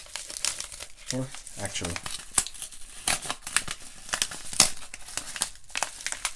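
A mail package is torn open: bursts of crinkling, ripping paper and plastic come in short, uneven spurts, close by, while a person talks over and between them.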